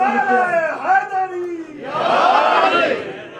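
A single voice calls out first, then a crowd answers with a loud, sustained collective shout of a slogan that fills the second half.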